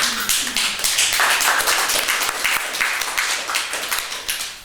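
An audience at a ceremony marking the 70th anniversary of victory in the Second World War claps continuously. The dense, close, loud clapping holds steady for several seconds and then eases off slightly, with no speech over it.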